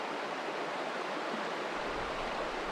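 Steady broadband rush of the Jamieson River flowing nearby, a continuous even wash of moving water with no voices.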